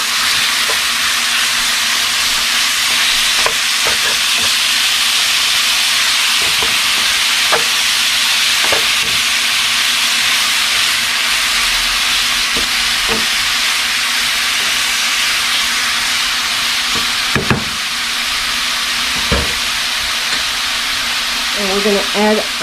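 Steak and onions fry in a pan with a constant bright sizzle and hiss. Scattered scraping and clacking from stirring sound over it, with a few brief louder bubbling spits near the end.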